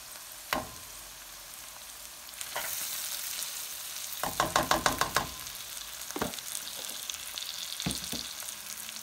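Butter fries in a pan for Ethiopian dulet, a soft steady sizzle punctuated by scattered utensil knocks and a quick burst of rapid tapping in the middle, close and fairly quiet, with no voices.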